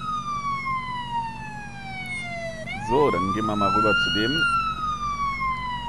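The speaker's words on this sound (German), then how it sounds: "wir machen erst nochmal die Sirene was leiser" A police siren wails in the Police Simulator: Patrol Officers game, sweeping up and down in long continuous tones, while someone speaks briefly over it midway.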